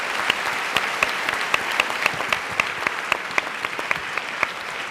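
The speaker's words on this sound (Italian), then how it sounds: "Io a tutti e tre farei subito un applauso." An audience at a public talk in Conegliano with psychiatrist Paolo Crepet breaks into steady, close applause, dense clapping with a few sharper claps standing out, and no voices over it.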